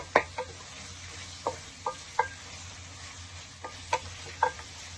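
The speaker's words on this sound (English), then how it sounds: "Saute this till it's nice and translucent, and we have a bit of light brown color." Chicken kosha ingredients sautéing in a pan for a Bengali dish, with a scattering of soft stirring scrapes and light clicks spaced irregularly over a low steady background hum, moderately quiet and without speech.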